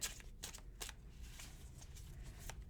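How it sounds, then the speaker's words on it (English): Tarot cards being shuffled, a slippery new deck riffled by hand, giving a series of soft, quick papery bursts close by with no talk over them. "I'm still getting used to shuffling these ones. They're a little slippery."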